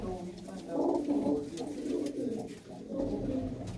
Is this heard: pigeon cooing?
yes